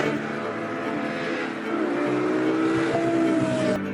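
A Lexus LFA supercar engine howls with a high-pitched wail, its pitch rising and falling as it revs, heard loud and without any talking.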